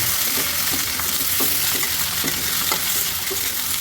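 Cauliflower sizzling in hot oil in a wok, a continuous close frying hiss broken by regular light scrapes and knocks of stirring, with no voices.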